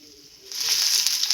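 Curry leaves and sliced onion hitting hot oil in a pan over a wood-fired stove, a sudden loud close hiss that swells and holds steady.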